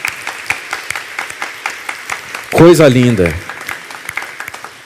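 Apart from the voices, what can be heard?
audience applause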